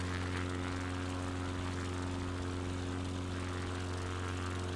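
Steady propeller aircraft engine drone from a flight simulator game while climbing, a constant loud tonal hum with strong low harmonics and a broad hiss of air noise, unbroken with no talking.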